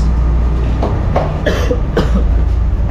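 A person coughs several times in short, irregular bursts against a loud, steady rumbling background.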